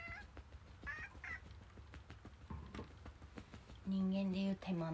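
A cat meows a few times, short calls near the start and a loud, sustained close meow near the end, with background tapping and faint rustling in between.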